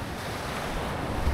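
Ocean waves wash steadily onto a beach at Sipalay, a continuous broadband surf roar with some wind rumble, fairly close and even in level, with no talking.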